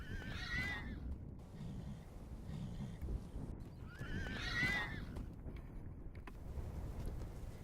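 Wild horses on an open range roundup, a sorrel stallion and a red dun band stallion, give two loud shrill whinnies a few seconds apart over steady wind and faint hoof clops.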